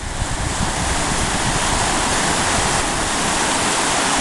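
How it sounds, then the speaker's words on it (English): A river rushes through a set of rapids in a loud, continuous roar of churning water that fills the whole stretch without pause, steady from start to finish with no voices. "I don't know if you'd be able to hear this or not because of the noise of the river."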